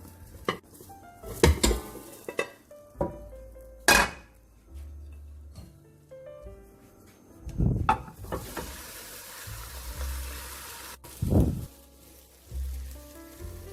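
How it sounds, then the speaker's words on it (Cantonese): A spatula scrapes and taps in a pan while scrambled egg with bacon and mushroom sizzles and is flipped, with a steady fry hiss and several sharp knocks against the metal, close up and without talk. "反一反呢個蛋"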